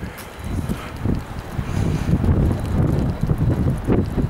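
Gusty offshore wind at the port of Łeba buffets the microphone in a steady low roar, with no voices.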